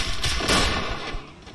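A grenade blast in the Counter-Strike video game: a loud, close burst of explosive crackle that peaks within a second and then decays into a rumbling tail.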